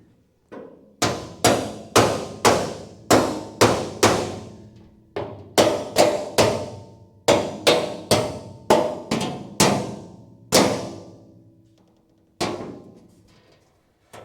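Hammer blows ringing on sheet metal, flattening a car floor panel along the weld lines, a series of sharp evenly spaced strikes in bursts with short pauses, close and loud.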